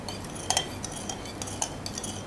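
A spoon clinks and scrapes against a pot or bowl while sweet and sour chicken sauce is mixed until even; a few sharp metallic taps stand out over a low, continuous stirring rustle.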